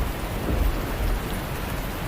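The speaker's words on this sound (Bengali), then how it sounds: "বৃষ্টি মনে হচ্ছে গতিবেগ বাড়িয়ে চলেছে" Steady heavy rain pours down in a dense, continuous wash of noise, with low rumbling underneath and no voices.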